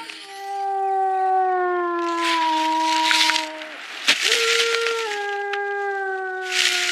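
A cartoon character's loud, drawn-out wailing cry with long, slowly falling tones, broken by short sobbing gasps before the wailing starts again.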